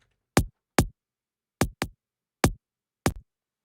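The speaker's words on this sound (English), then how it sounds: "I layered a top kick on the main kick." A top kick layer for a track gives six short, crisp clicks in an uneven pattern, each a sharp snap with high end and a quick decay, heard alone.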